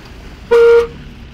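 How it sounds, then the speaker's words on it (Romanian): A Dacia car horn sounds in one loud, steady toot of about a third of a second, close by, with quiet surroundings before and after. "Ăsta e claxon, mă"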